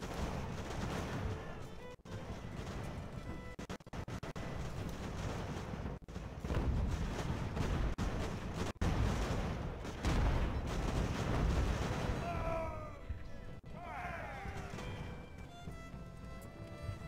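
Naval battle artillery in Ultimate Admiral: Age of Sail, with cannon booms at irregular intervals over a continuous rumble of battle, some sharp cracks standing out, fairly quiet overall.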